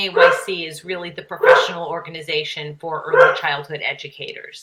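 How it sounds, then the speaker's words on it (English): Dogs bark and yip in the background, mixed beneath steady continuous talking during a recorded early childhood education class lecture. "Sorry about my dogs."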